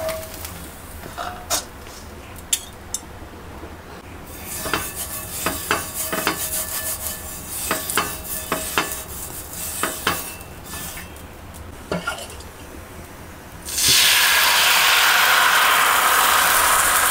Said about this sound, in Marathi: आता पलटी मारला त्याला, दुसऱ्या बाजून चांगला शेकून घेऊया